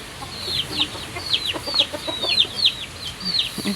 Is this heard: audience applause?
no